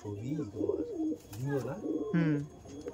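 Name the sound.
pigeons cooing in breeding loft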